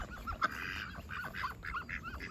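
White ducks at a homestead pond give a run of nasal honking quacks, faint and a little distant, calling several times over a couple of seconds.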